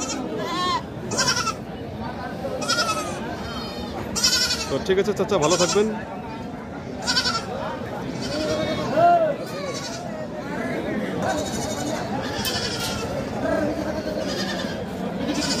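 Goats and kids bleat repeatedly at a busy outdoor goat market in North Bengal, their cries rising over a steady babble of crowd noise while people talk nearby.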